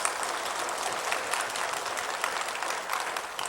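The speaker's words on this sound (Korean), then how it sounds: "우리를 위해서 부활하신 주님께 큰 영광의 박수를 돌려드리겠습니다." A church congregation claps together during an Easter Sunday service, a brief, even burst of applause from many hands filling the room, steady and moderately loud without speech.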